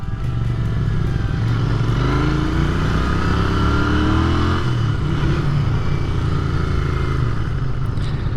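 A Royal Enfield Continental GT 650 motorcycle engine with stock exhaust drones steadily at close range on a test ride, its pitch shifting as the rider accelerates and eases off, with wind noise throughout.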